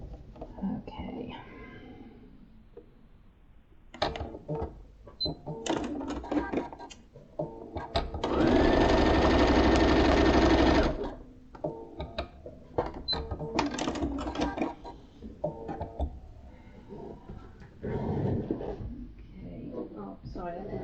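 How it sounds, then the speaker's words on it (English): A sewing machine whirs steadily for a few seconds in a single continuous burst while stitching a quilt block, with quiet talking and handling noises before and after. "I didn't take you to the sewing machine."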